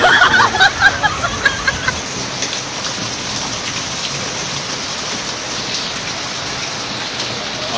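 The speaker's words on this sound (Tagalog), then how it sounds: "dahil nga po sa sobrang lakas ng ulan" Heavy rain pours steadily in Daet, a dense, loud hiss of drops on surfaces throughout, with a few louder patters early on and faint voices in the background.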